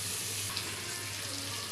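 Raw hilsa pieces go into hot oil in a home kitchen pan, giving a soft, continuous sizzle and crackle that stays even and fairly quiet throughout.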